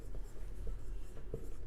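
Marker or chalk scratching across a classroom board during a maths lesson, a run of soft scrapes and taps up close, with no talk over it.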